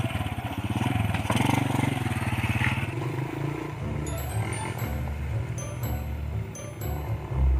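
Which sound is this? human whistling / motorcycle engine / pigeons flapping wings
motorcycle engine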